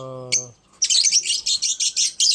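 Blue-eared bird calling close by at its nest hole, a burst of bright, rapid high chirps repeated in quick pulses after a brief harmonic whistle-like tone.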